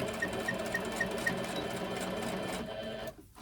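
A sewing machine runs steadily, stitching down fabric for a key fob, a close, continuous mechanical whir with a faint rhythmic ticking that stops abruptly near the end.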